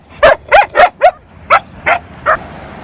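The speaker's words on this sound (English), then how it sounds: "This is actually one of the first time we hear her barking" A dog gives seven sharp, close barks, four in quick succession and then three more spaced out and slightly softer, with quiet between them.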